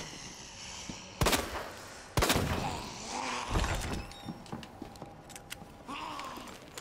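Two sharp, loud gunshots about a second apart from Resident Evil 2 (Claire B, Hardcore), followed by quieter clanks and game ambience.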